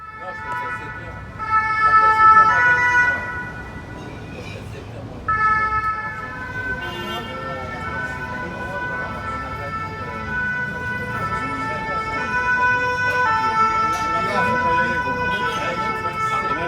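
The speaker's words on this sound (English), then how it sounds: "Also fire engines and ambulances" Several fire engine and ambulance sirens wail and overlap as they pass through Paris streets, rising and falling over traffic noise, with people talking underneath.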